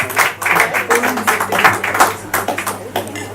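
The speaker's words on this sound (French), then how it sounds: "on l'applaudit s'il vous plaît" An audience at a slam poetry evening in a cellar venue in Nice applauds steadily with dense, close clapping. Voices murmur underneath the clapping.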